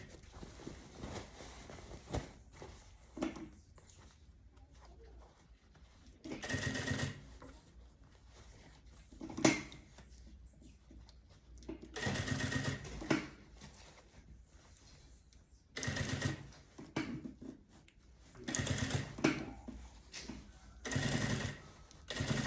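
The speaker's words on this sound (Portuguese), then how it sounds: "agora eu vou costurar do centro lá pra baixo" Sewing machine stitching a bag, running in repeated bursts of a few seconds separated by quiet pauses with faint handling noises, close and moderately loud.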